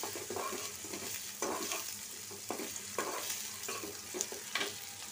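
Onion and garlic fry with dried chillies in a pan, a soft constant sizzle broken by intermittent scraping stirs, close but fairly quiet, no one speaking.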